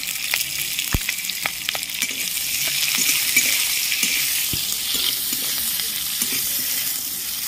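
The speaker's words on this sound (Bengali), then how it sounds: "হালকা করে একটু ভেজে নেব।" Chopped onion and capsicum sizzle steadily in a hot pan, a continuous close frying hiss with occasional light stirring clicks and taps, no voices.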